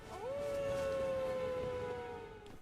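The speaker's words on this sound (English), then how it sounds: "listen out to the strange howling coming from somewhere within" Half-man, half-wolf Blyde howls in the Elden Ring video game: one long, loud, sustained howl that rises, holds steady and slowly fades over a few seconds, heard alone with no talk.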